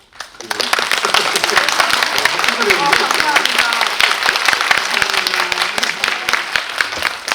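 Audience applause at a Korean film Q&A screening for the movie Anchor, with the director and lead actress attending, a dense crowd clapping steadily for several seconds with voices mixed underneath.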